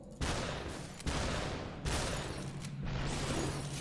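Gunshots in the video game SUPERHOT, four sharp, evenly spaced shots each followed by a short decaying tail, loud and close, over a steady low hum with no talking.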